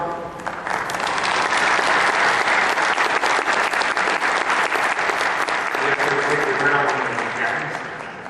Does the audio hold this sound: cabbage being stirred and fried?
no